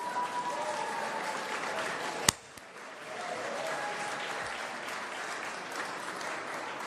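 Loud, sustained audience applause fills the hall at a video game awards show, the Golden Joystick Awards 2025, with one sharp crack partway through before the clapping swells again.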